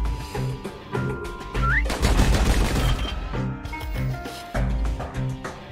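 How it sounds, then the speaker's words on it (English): Rapid pistol gunfire in the video game Bastion, a quick series of sharp shots over game music and effects, close and fairly loud, with a denser burst of firing in the middle. "Those pistols could spit out rounds just as quick as you could pull the trigger."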